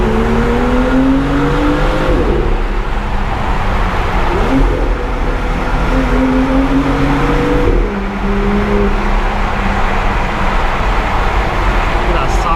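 A BMW M2 in loud exhaust mode accelerates through city streets, its engine note climbing in pitch through several rising pulls and gear changes, loud and close from inside the car, with someone talking over it.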